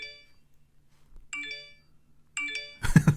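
An email notification alert plays as a few bright electronic chimes, the tones spaced apart with short gaps, then a louder burst at the end; no speech.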